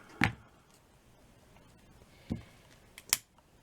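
Scissors snip through paper or ribbon while a lattice flower center is being made, three crisp, separate cuts spaced over a few quiet seconds.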